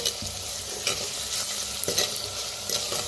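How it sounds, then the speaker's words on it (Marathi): A paste of ground garlic and green chili fries in a pan, giving a continuous close sizzle broken by a few scraping stirs of a spoon. "आता लसूण हिरवी मिरची वाटून घेतली होती ती बी. ते करून भाजून घेऊया."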